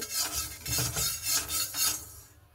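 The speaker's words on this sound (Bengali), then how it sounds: "আর সে সর্ষে আর সে ধনাটাকে আর সে দারচিনিটাকে আমি ভালো মতো করে একটু ভেজে নেব" Mustard seeds, coriander and cinnamon stirred in a pan as they fry: about five rhythmic rasping scrapes of a spoon across the pan, close and fairly quiet, then fading out.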